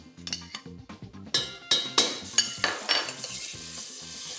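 Butter melts in a saucepan ahead of cooking button mushrooms with ginger, giving a close, steady sizzle broken by repeated clinks and scrapes of a utensil stirring against the pan.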